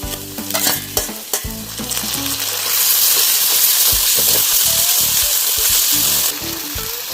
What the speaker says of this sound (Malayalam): തക്കാളി ഇടാം.